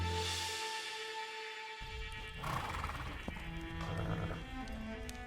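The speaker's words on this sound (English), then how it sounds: "Look at those horses!" Horses on a ranch neigh and whinny loudly, with hooves stirring and clopping around them, close and restless across the whole stretch.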